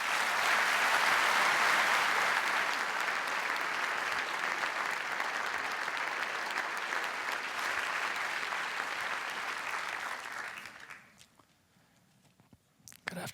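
A large lecture audience at an academic year opening gives sustained, dense applause for Nobel laureate Professor Barry Barish, even and steady for about ten seconds before dying out quickly to near silence.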